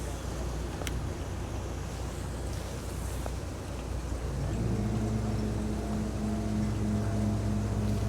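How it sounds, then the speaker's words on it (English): A Sunseeker Manhattan motor yacht manoeuvring sideways at a dock, with a steady low mechanical hum from its thrusters that swells partway through, mixed with wind noise. "Just a little help from the thrusters there to get a bit of sideways manoeuvring."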